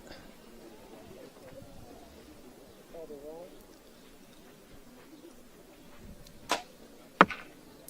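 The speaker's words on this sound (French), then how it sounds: "Une très belle flèche pour Léa" An arrow shot during a cadet compound archery gold medal final, heard as a sharp release and thump near the end, following a quiet stretch with faint background murmur.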